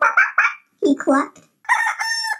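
A chicken makes short clucks and a longer crowing, squawking call in quick bursts, loud and close with no talk over it; the calls could be a voice imitating the bird.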